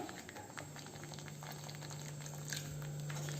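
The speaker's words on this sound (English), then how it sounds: "I am adding a very little amount of water." A little water hits hot masala powder in a pan, setting off a close, steady bubbling and sizzling boil with soft patters over a constant kitchen hum.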